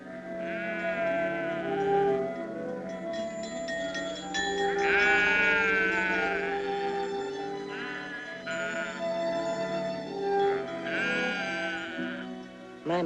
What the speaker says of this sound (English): we took the sheep out of the corral